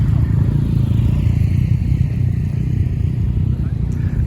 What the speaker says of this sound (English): This is a Honda VFR 1200 he's on there